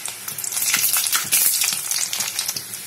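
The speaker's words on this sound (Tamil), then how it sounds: "இது எண்ணெய் காய வச்சு கடுகு போட்டுக்கோங்க அடுத்து வெள்ளப்பூடு போட்டுக்கோங்க" Mustard seeds and garlic tempering in hot oil, a close crackling sizzle with quick popping bursts, fairly quiet and with no voices.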